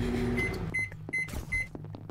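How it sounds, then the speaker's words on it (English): Microwave oven sound effect playing inside Among Us VR: a low hum broken by a few short, bright electronic beeps in quick succession. "You're giving me microwave sound effect."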